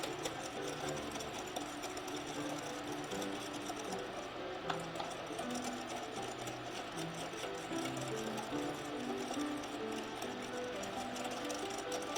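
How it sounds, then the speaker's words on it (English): A whisk beats an eggnog mixture of warmed egg yolks in a bowl, making a continuous fast rhythmic clatter that stays quiet and even throughout, with no talking. "And you're just going to keep whisking this."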